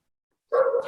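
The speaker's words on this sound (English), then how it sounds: "I'm always sorry about the dog barking in the background" A dog barks once in the background, a single sharp, fairly loud bark after silence, cut off quickly.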